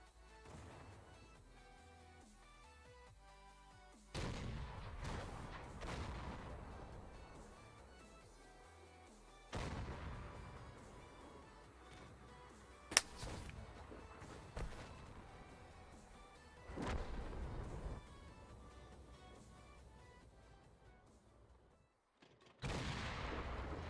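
Tank cannon fire in a German tank game, several loud booming shots spaced seconds apart, each dying away into low rumble and quiet background.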